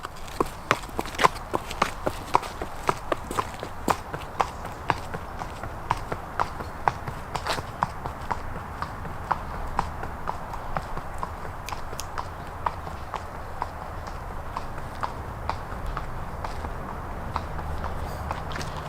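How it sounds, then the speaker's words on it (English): A horse walks steadily in a clinic for low-grade club foot, its hooves clip-clopping in an even, repeated rhythm for many steps, fairly close and clear. "we're going to watch our horse go"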